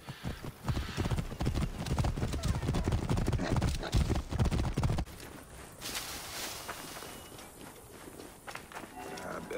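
Horses gallop across the desert in Assassin's Creed Origins, their hooves drumming in a rapid, close clip-clop for about five seconds before fading into quieter riding and ambient sound.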